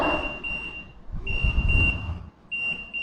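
A lorry's reversing beeper sounds three long, shrill electronic tones, about a second apart, over a low rumble of background noise.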